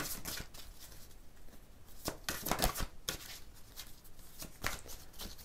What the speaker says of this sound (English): For some reason, it's really hard to shuffle this deck today.